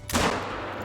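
Rifle follow-up shot in the hunting video game The Hunter Call of the Wild, a single sharp report with a long rolling echo trailing off, with no talk.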